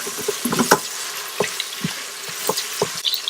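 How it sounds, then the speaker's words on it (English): Onions fry in an Instant Pot with salt and turmeric, giving scattered sizzles and crackles with occasional stirring scrapes, close and without talk. "Cook the onions until they are golden brown."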